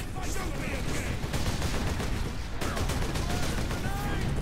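Dense, rapid gunfire from a gun in the video game Warhammer 40k: Space Marine, loud and nearly continuous for several seconds, with bursts blending into a steady rattling barrage amid other game effects.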